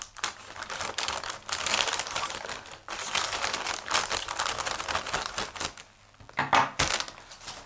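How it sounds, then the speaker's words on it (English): Scissors snipping through the top of a thin cardboard cereal packet, a run of crisp crinkling cuts and rustles in quick bursts close by, with a brief pause near the end before one last sharp crunch. "I'm just going to cut this top bit off of the packet."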